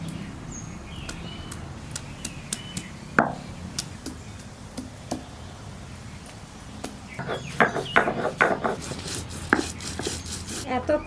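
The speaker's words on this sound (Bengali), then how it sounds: "আদা আর রসুন একসঙ্গে বেটে নিচ্ছি।" Ginger and garlic are pounded together into paste beside a pond, with sharp intermittent knocks and thuds in an uneven rhythm, clustering into quicker strikes toward the end over quiet background.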